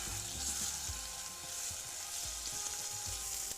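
Small lamb cutlets sizzling steadily in hot oil in a pan, a soft continuous crackle with a few dull thumps as pieces are laid in, quiet and close.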